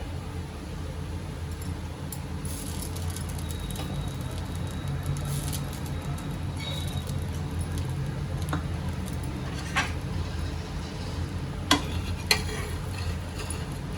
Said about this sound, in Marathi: दुसरा देखील एक पराठा मी तव्यावर टाकून घेतलेला आहे वरच्या बाजूने आता ह्याला तेल लावून घेते